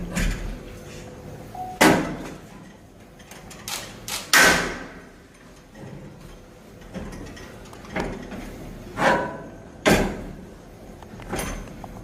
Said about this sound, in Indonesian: Kita buka pintu.